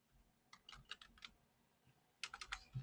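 Quiet clicks of a computer keyboard while coding in an IDE, a short burst of keystrokes, a pause, then another quick cluster of taps, close and faint.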